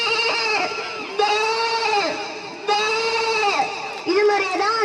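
A performer's voice imitates a lamb bleating pitifully on stage at a school annual day event, giving several wavering, drawn-out bleats in a row, loud and close.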